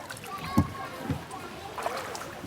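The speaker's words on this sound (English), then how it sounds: "I picked up a paddle and decided to join the self-styled 3 old men in boats on the river" Paddles splash water as rowing boats move along the Little Ouse River near Thetford in East Anglia, with a few distinct dips and sloshes over faint murmuring voices.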